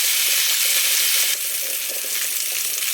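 Small lamb chops sear in a hot pan, producing a loud, steady, dense sizzle that holds the whole time with a slight dip partway through.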